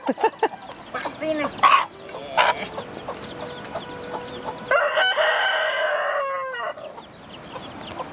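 Chickens cluck and a rooster crows nearby, with scattered squawks and a voice speaking in the background.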